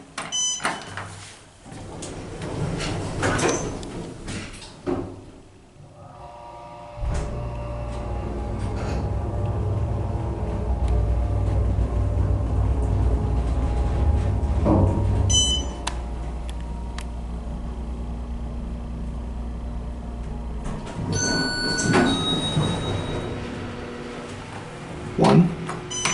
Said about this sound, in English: here we have an Otis elevator to ride. Otis with Series 5.